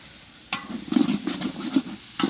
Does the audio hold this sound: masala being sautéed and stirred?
yes